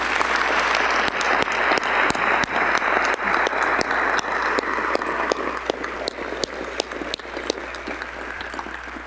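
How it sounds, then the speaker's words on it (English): An audience applauds at a medical college convocation ceremony, a steady wash of many hands clapping that thins slightly toward the end. "We could have a round of applause for Dr. Seeley."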